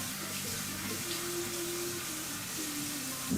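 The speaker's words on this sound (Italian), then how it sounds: "andiamo a sciacquare con acqua fredda, che fredda non è" Cold tap water runs steadily at a bathroom sink for rinsing during a shave, a continuous close hiss of flowing water with no talking.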